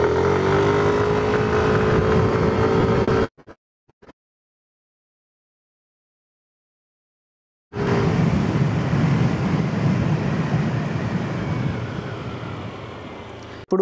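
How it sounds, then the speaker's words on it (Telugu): A 2025 Yamaha Aerox 155 Version S scooter engine runs with a steady, loud droning hum and some wind noise, cutting out to silence for several seconds midway before resuming. "సో ఇంజన్ స్టార్ట్ చేశాను."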